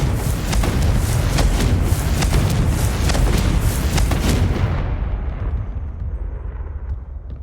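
Repeated Confringo fire-spell blasts in Hogwarts Legacy, a rapid series of loud booming bursts over a dense rumble that fades out toward the end.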